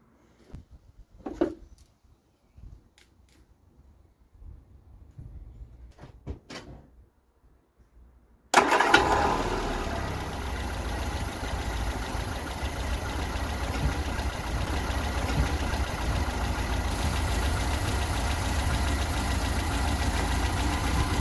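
A 1975 barn-find engine fitted with a Weber carburetor and Edelbrock intake, first quiet with scattered clicks and knocks, then catching abruptly into a loud steady idle that runs close and unbroken to the end.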